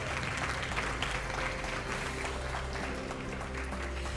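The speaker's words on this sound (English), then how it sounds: "it's okay to clap for the other children in the class" An audience at a business awards ceremony applauds an award winner, with steady, dense clapping from a sizable crowd that carries through the whole stretch without letup.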